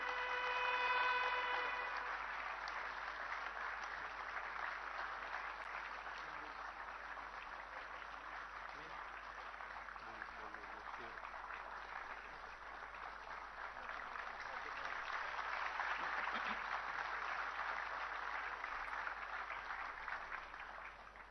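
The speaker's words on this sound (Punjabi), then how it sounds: "ਤਾੜੀਆਂ ਵੱਜਦੀਆਂ ਰਹਿਣੀਆਂ ਚਾਹੀਦੀਆਂ ਨੇ" Crowd applause at a government appointment letter ceremony for young recruits held by Chief Minister Bhagwant Mann, a sustained wash of clapping that swells and fades over about twenty seconds, with faint voices and a few tonal notes near the start.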